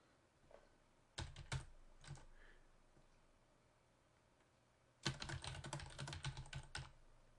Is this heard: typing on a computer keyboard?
yes